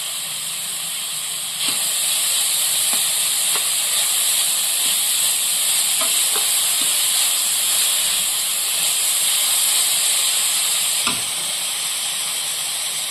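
Chopped spinach hits a hot pan for a sprouts sandwich filling, setting off a loud, steady hiss and sizzle, broken by a few soft clinks and stirring taps.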